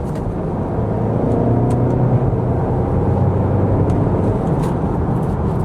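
Engine and road noise from a 2026 Audi Q3 crossover driven in manual shift mode: a steady, loud cabin hum with low rumble and tire roar, no talking.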